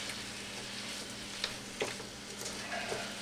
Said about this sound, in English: I'm just going to stir this up a little bit to get all the spices